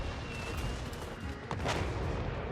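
Rocket battery and mortar barrages in a fantasy strategy war game, a dense continuous rumble of distant explosions with a sharper blast near the middle and a swell toward the end.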